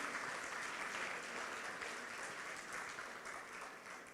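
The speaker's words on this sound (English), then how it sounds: "So maybe you should give a round of applause" Audience applause fills a banquet hall at a university business school's 30th anniversary dinner, steady and dense clapping from a large crowd that holds throughout and tapers slightly toward the end.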